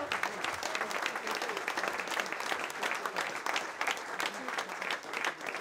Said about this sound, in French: je tiens à ce que vous les applaudissiez très fort.